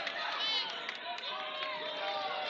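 Crowd noise rises at a high school wrestling match between Garnet Valley and Upper Darby, a sustained roar of cheering and chatter filling a gym, steady and fairly loud with no clear break.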